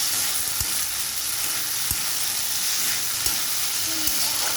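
Tomato sauce frying in a pan gives a loud, continuous sizzle and hiss close by, with scattered soft clicks of a spoon against the pan.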